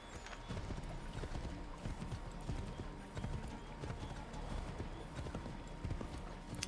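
Steady hoofbeats of a horse galloping in Assassin's Creed III, a continuous rapid clip-clop rhythm with a busy background mix and occasional faint voices.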